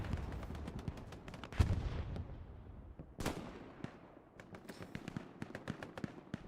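Scattered gunfire from rifles and a Grease gun in a Hell Let Loose competitive match on the Carentan map, with sharp shots cracking irregularly near and far throughout, one louder burst standing out above the rest.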